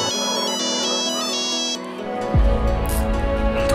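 A phone ringtone plays loudly and steadily as a bright, repeating electronic melody, then gives way to a deeper musical passage within a breakup song.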